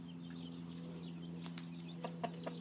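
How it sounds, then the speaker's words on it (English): Chickens, including baby chicks, clucking outdoors at a farm, a few soft, quiet calls over a steady low hum, with no talk. "Baby chickens."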